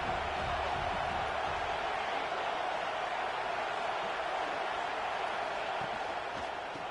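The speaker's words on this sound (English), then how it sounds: "This crowd bringing the energy and noise early." College football stadium crowd: a constant, roaring wash of fan noise fills the space evenly, while a commentator talks over it.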